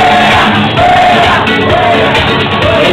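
Crowd at a Halloween costume contest in Duitama, Boyacá, shouting and yelling loudly together, a continuous dense roar of many voices with rising chant-like calls throughout.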